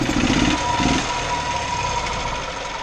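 A gas-powered golf cart engine runs on full choke, a steady mid-pitched drone with a rougher low chugging at the start, close and continuous without talk.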